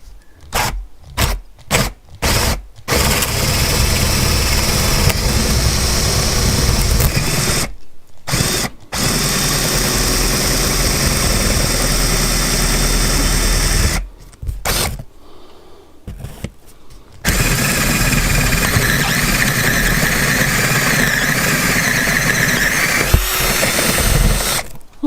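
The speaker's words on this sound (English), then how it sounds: "Now I'm going to use a 3/4 inch bit so that I can get the wire nut all the way through the wire fitting." Power drill fitted with a 3/4 inch bit boring a hole for wiring during a backup camera install, loud sustained whirring in long runs broken by short stops and restarts.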